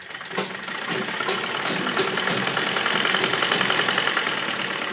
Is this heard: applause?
no